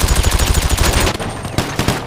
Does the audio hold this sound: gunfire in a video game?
yes